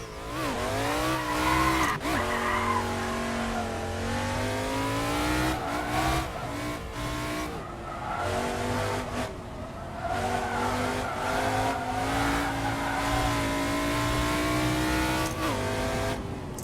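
A 1965 Daytona Coupe in the Assetto Corsa racing game, its vintage V8 with four-speed top-loader gearbox revving hard and shifting through gears, loud and continuous with pitch climbing and dropping, tire squeal at moments.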